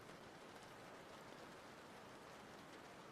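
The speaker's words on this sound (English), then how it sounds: "if you listen carefully, you should be able to hear the rain pitter-pattering on the window" Rain pattering on a window inside a 1989-themed hacking video game, a soft, even hiss of drops that stays faint and steady throughout.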